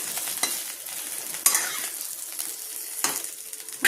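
Brinjal pieces frying in a little oil in a pan, a continuous close sizzle broken by sharp spoon scrapes and clinks against the pan at intervals, with no voices.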